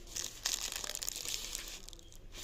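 Steady crinkling and rustling of thin plastic bags, packaged produce and carrier bags sold in rolls, close by and continuous, with a few sharper crackles and no talking.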